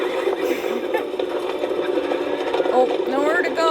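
Horses whinny amid a crowd of people in a dramatic TV episode scene, high wavering neighs rising near the end over a dense, constant wash of background noise and voices.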